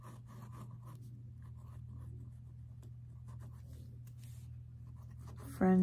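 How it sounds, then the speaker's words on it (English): A thin pen scratches across paper in an art journal, with soft faint strokes in short bursts over a steady low hum, and a brief loud noise at the very end. "I don't know why, but I just felt like I wanted to write."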